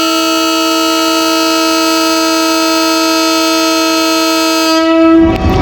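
A train departing Attock City Junction sounds a loud, sustained horn blast for about five seconds, which then cuts off into a brief rumble.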